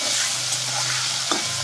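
About 250 grams of drumstick (sajne danta) pieces fry in oil over low to medium heat, with a steady sizzle and a single brief stir near the end.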